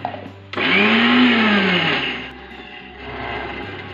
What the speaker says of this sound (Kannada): ಇದು ಚಟ್ನಿಗೆಪ್ಪ, ಇದು ಗ್ರೈಂಡ್ ಮಾಡ್ತೀನಿ